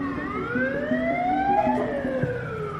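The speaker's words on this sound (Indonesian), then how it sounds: "sirene ambulans berbunyi pertanda adanya sebuah insiden yang baru saja terjadi" An ambulance siren wails steadily with a rising and falling tone, close and loud, sounding alone for a few seconds.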